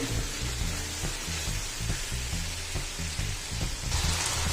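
Half a kilo of boneless chicken cooking in a pan, a dense continuous sizzle with faint rhythmic stirring scrapes, close and without speech.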